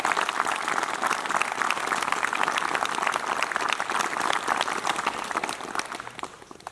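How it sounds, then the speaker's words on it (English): Audience applauding scouts just called out at an Order of the Arrow lodge ceremony, a sustained crowd of clapping hands at steady loudness throughout with no talk. "Please give one more round of applause for everyone who was just called out."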